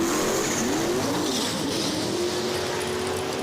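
Swamp Donkey, a drag race car with a mood-ring paint job, launches hard down the strip at a memorial drag racing event, a loud sustained roar with rising engine pitch and a brief tire squeal, filling the whole moment without voices.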